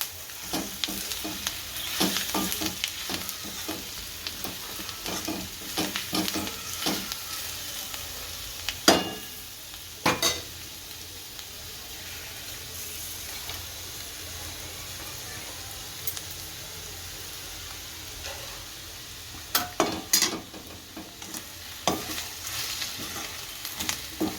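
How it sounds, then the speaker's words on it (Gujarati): Stuffed okra masala is stirred in a hot pan. A steady sizzle and hiss runs throughout, broken by scattered scraping clicks of the spoon against the pan, close and moderately loud. "આને હલાવી નાખશું સારી રીતે અને ભેળવી નાખીએ બધું।"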